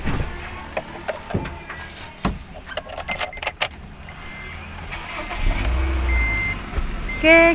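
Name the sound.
car engine while getting into the car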